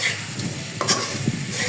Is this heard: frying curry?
yes